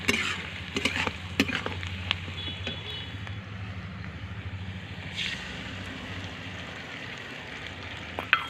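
Ginger-garlic-turmeric masala paste hits fried onions in a pan, giving a continuous soft sizzle with a few sharp clinks and stirring scrapes near the start and end.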